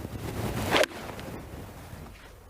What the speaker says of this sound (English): It's windy conditions.